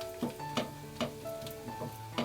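A spoon stirs onions cooked with chili masala and turmeric in a pan, giving repeated scraping clinks at a steady rhythm over a soft background sizzle, close up with no talking.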